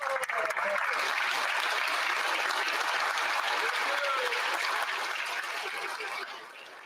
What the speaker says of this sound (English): let's all applaud for the senator.